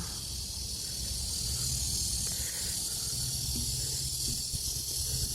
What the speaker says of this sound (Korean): 아, 귀뚜라미 소리 들리는데요.